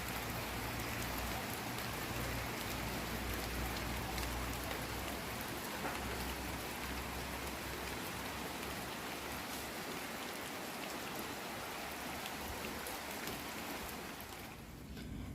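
Steady rain falling outdoors during a sunshower, a dense even hiss of drops on surfaces, close and continuous with no talk, easing slightly at the very end.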